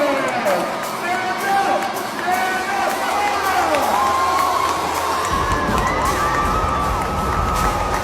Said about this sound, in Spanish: Miren ustedes lo que es la ovación de los niños, de los adolescentes.